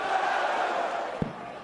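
Crowd noise fills a packed darts arena at a Premier League night in Belfast, a steady broad roar of voices and cheering held throughout, with one sharp thud near the end.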